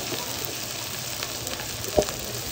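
Onion, garlic and chili fry lightly in a pan for a lentil dish, a steady soft sizzle with faint crackles and a brief utensil tap near the end.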